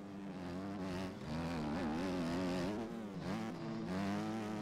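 Two-stroke dirt bike engines race in the MX Bikes video game, buzzing and revving continuously with rising and falling pitch as two bikes battle closely.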